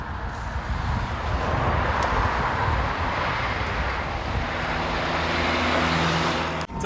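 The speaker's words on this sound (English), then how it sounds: "you can zip right along with this little car" A Reliant Rialto 2, a small three-wheeled classic car, is driving with a steady engine drone, road roar and wind buffeting heard from inside the cabin. The noise holds level for several seconds, with no talking.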